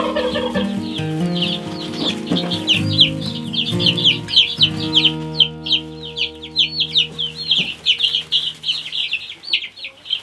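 Baby chicks peep in rapid, high-pitched chirps near and clear, while adult chickens cluck in a lower tone. The clucking fades and the chick peeping carries on alone.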